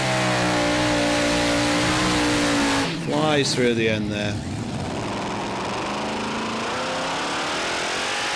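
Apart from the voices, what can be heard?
tractor pulling engines revving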